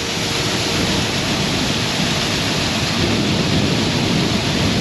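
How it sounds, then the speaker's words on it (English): A hydraulic auger driven by a tractor's hydraulics loads fertilizer into a tank, producing a loud, continuous, dense rushing and grinding roar that holds steady close by with no talk. "That's loading the fertilizer into the tank right now."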